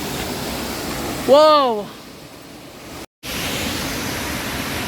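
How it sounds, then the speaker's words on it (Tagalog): The three-layer Dimasalang waterfall in Maria Aurora roars as a constant broadband rush of falling water, loud and close, with a brief exclaimed voice over it. "ang 3-layer waterfalls dito sa Maria Aurora"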